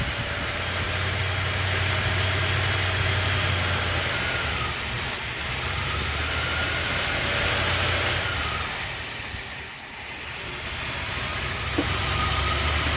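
A 1976 Chrysler Newport engine, running for the first time in eight years on a weak fuel supply, idles with a loud, steady, rough drone and low rumble throughout, with no voices.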